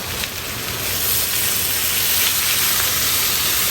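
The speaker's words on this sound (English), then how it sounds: "you can add a little bit of water" Water hisses and steams loudly in a hot pan of broccoli and shrimp, a steady sizzling rush lasting several seconds after a sharp first splash, with no talking.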